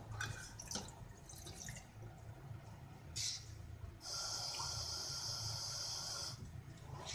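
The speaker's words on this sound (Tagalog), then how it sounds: "maglagay na po tayo ng tubig dito sa kalderong maliit" A glass of water is poured into a small cooking pot while making onion juice. A few faint clinks come first, then one steady pour lasts a couple of seconds, quiet and close.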